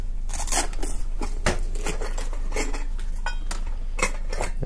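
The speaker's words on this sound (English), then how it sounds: "This is a GSI cup, actual GSI cup" Metallic clinks and scrapes of a GSI camping cup and cook kit pieces being handled, a steady run of close, bright knocks and clatters with no talking.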